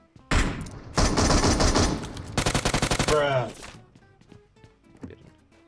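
Shotgun and rapid automatic fire in PUBG Mobile: loud bursts of shots, one long rattling volley with distinct repeated reports, then a fading tail and a few quieter thuds, with a person speaking.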